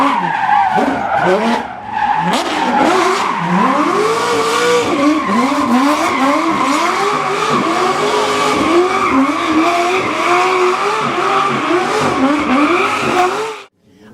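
A Volkswagen Formula Drift car skids through continuous tire squeal for about 13 seconds, its engine revving in rising and falling sweeps. It is loud and close, at the Chattanooga Motorcar Festival.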